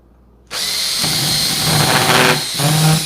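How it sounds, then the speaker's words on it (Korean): A power drill set to hammer mode bores a small 2.5 mm bit into wood, starting abruptly loud and steady, with a rattling hammer texture and a rising whine that dips briefly before resuming, close and alone without talk. "지금 이 소리가 나는 이유는 이 포지션을 햄머로 했죠"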